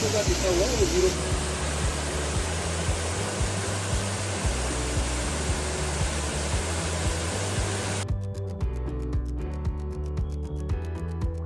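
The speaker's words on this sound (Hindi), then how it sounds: "जब हमने सामने वाटरफॉल को देखा, इस आवाज़ को सुनाई थी" A waterfall in the Jim Corbett area roars steadily as a broad, loud, close rush of falling water, continuous throughout, with the sound thinning abruptly near the end.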